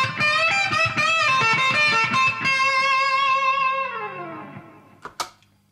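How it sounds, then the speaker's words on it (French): Electric guitar chords through reverb and a Harley Benton delay pedal ring out with a spacious, echoing tail that trails away slowly, followed by a couple of soft knocks near the end. "j'avais que de la reverb, j'ajoute un delay"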